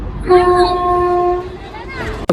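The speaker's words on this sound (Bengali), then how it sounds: "এই ব্রিজটা দিয়ে ট্রেনটা যাচ্ছে" A train crossing a bridge sounds a clear, tonal horn blast lasting about a second, followed by a rumbling rush and a sharp knock at the end, all fairly close and loud.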